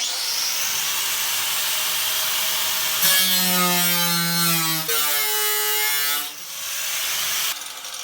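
An angle grinder cuts through a board with a loud, continuous whine whose pitch shifts and wavers as the disc bites into the material, running nearly the whole time.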